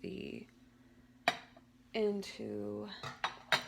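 Metal pots, pans and a lid clatter and clink in a home kitchen as cookware is shifted toward the oven, with a few sharp bangs and ringing tones amid moments of quiet.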